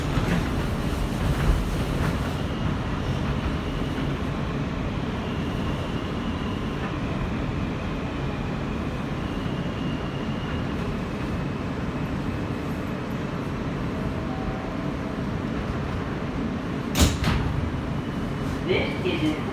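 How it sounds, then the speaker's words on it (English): A New York subway train, an R160B Queens-bound E train running on the R line, rumbles steadily along the tracks, with a continuous low roar, occasional rattles and a sharp metallic clank near the end. "This is a Queensbound E train via the R line."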